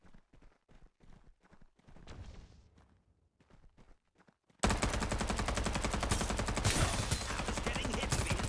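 Gunfire in the video game Farlight 84 begins as sparse sharp shots and footstep-like clicks, then erupts into a loud, continuous burst of rapid automatic fire that runs to the end.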